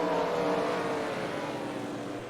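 Race cars running a heat race on the Spencer Speedway oval, a fairly faint engine roar that swells and then eases slightly as the cars head through the turns, heard at a distance with no talking.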